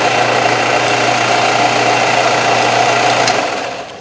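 A rotary sanding tool buzzes loud and steady up close as it sands and rounds the corners of carbon fiber dust protectors for a Losi 5ive B, the whine holding even before tapering off at the end.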